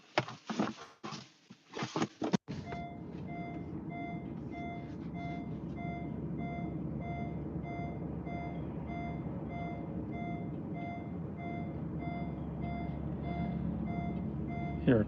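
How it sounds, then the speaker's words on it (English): A truck's reversing alarm beeps in a steady, evenly spaced pattern for a long stretch near a railway line in Macungie, over a constant low engine rumble, with brief clattering noise before it starts. "Hear a truck."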